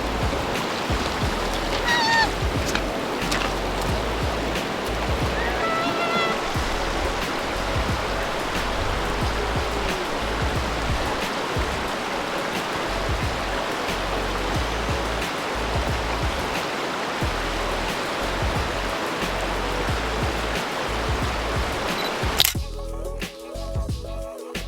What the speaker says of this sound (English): We didn't anticipate that the rapids were gonna be that high.